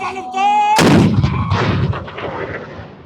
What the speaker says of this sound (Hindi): इस तोप को चलाया जाएगा और साउंड बेशुमार आवाज़ पैदा होगी